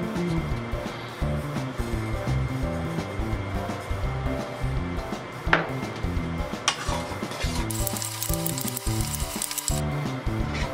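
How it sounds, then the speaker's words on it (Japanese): Mayonnaise and salt being stirred in a cold stainless steel pan, giving a steady run of scraping, clattering metal contact that continues throughout at close range, with no talking. "冷えた状態でマヨネーズ大さじ3くらいと塩大さじ1くらいを入れて軽くかき混ぜます"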